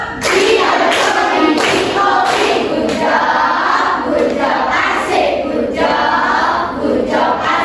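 An Indonesian elementary classroom performs a rhythmic clapping chant for a student, with loud, repeated bursts of clapping in a patterned beat and children's voices chanting along throughout.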